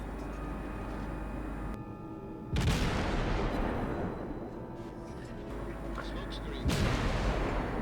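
Guns of the US destroyer Farragut firing in the World of Warships naval battle game, two heavy booming salvos a few seconds apart over a continuous roar of engine and sea noise.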